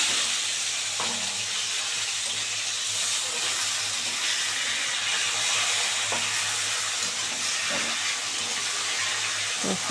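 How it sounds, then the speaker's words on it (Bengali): Small fish fry hard in hot oil for a crispy finish, giving a loud, steady sizzle and hiss with occasional stirring or turning sounds throughout. "একদম কড়া করে ভেজে নেবো।"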